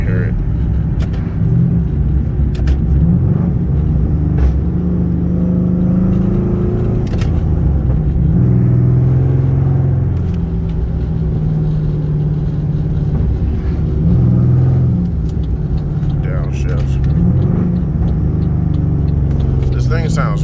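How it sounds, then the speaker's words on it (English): Pontiac G8 GT with headers heard from inside the car while downshifting on a road: a loud, deep exhaust drone rises and falls through revs, with a constant rumble and a person talking over it. "I'll shift down so you can hear it."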